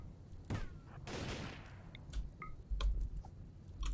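A few sharp gunshots in a tactical video game as a disabling shot is fired at an enemy, scattered cracks and thuds with short sharp clicks between them, moderately loud with no talking.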